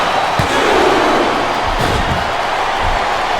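A large arena crowd in the WWE SmackDown vs Raw 2007 video game roars steadily throughout, with a few dull slams from the ring punctuating the wash of cheering.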